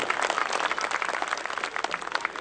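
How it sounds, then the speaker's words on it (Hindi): A corporate function crowd gives a loud welcoming round of applause for guests: a thick, continuous patter of many hands, fairly close and steady throughout, tapering a little toward the end. "उनके लिए जोरदार तालियों से स्वागत करते हैं।"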